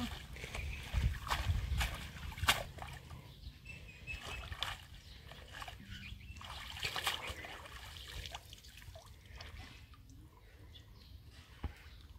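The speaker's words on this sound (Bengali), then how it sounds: "এখন আমি জল দিয়ে ভালো করে ধুয়ে নিব।" Running water washing taro stolons (kochur loti) for a steamed egg dish in a home kitchen, a steady light trickle and splashing with a few sharp clinks of handling, close and moderate, no talk.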